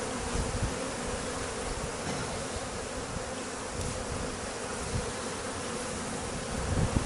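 A dense swarm of bees drones continuously around an exposed hive during a large removal job, a thick, close, unbroken buzz lasting throughout with no voices.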